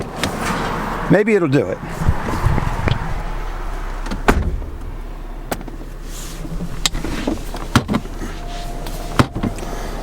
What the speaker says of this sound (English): when I closed the door a minute ago, this popped right open